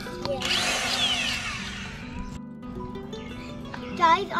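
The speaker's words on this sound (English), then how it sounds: "Yep, we are going to need the impact." An impact wrench buzzes in one loud burst of roughly two seconds, removing lug nuts from a C4 Corvette wheel during brake caliper work, followed by quieter shop noise and talking.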